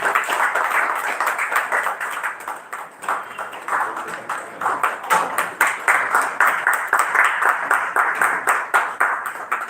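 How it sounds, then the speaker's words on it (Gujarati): An audience at a Karmakand workshop session claps steadily for about ten seconds, a dense run of close, sharp hand claps with uneven rhythm that swells and dips slightly, with no talking over it. "વચ્ચે ગેપ પડે તો આપણો તાળીઓ વગાડતા રહે"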